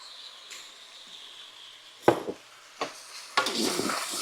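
Oyster sauce hits the hot edge of a pan of chicken fried rice, giving a few sharp sizzling bursts and scrapes that swell into a steady fry near the end, close and fairly quiet.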